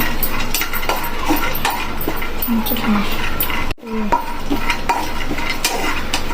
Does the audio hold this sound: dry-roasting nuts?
yes